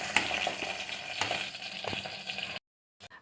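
Chillies frying in a pan give a close, steady sizzle and crackle with a few sharp clinks, then cut to silence near the end before a brief faint rustle.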